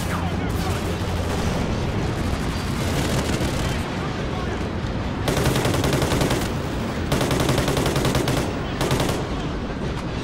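Sustained machine-gun fire in Call of Duty: Ghosts, dense rapid bursts broken by a few short pauses, loud and close, with people talking over it.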